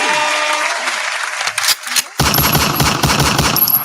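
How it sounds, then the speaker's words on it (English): An applause sound effect cued by a studio soundman on a talk show bursts in partway through, dense loud clapping that fills the rest of the moment after a short quieter stretch. "Can we have some claps,"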